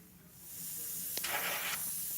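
An airbrush sprays paint on compressed air at low pressure, giving a steady close hiss that swells into a stronger spray burst midway and keeps on to the end.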